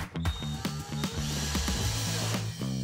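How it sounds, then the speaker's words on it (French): A power drill drives screws to fix drawer guides onto a wardrobe body, with a rapid, rhythmic ratcheting clatter running steadily and close, with no talk. "Vous arriverez à visser les guides sur le corps."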